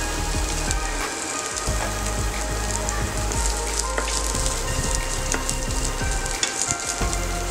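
Chopped onion sizzles steadily in a hot pan with spices, a loud close crackling hiss that runs without a break, with occasional scraping stirs and no talk.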